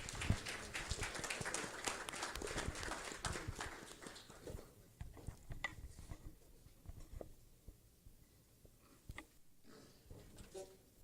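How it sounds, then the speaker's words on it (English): An audience at a business expo applauding: scattered clapping, fairly dense at first, then thinning to sparse individual claps, faint and somewhat distant. "So give Benga a round of applause, please."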